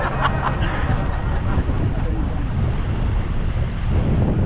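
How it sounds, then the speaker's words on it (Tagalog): Strong wind buffets the microphone at a fishing campsite with a continuous low rumble and rush, and faint sounds of water and activity beneath. "Dahil malakas ang hangin"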